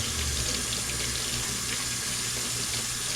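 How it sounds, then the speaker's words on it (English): Running tap water pours steadily into a sink as the roots of Aerogarden herb and vegetable plants are rinsed, a close, continuous hiss with no talk. "I'm actually just going to rinse these roots one more time."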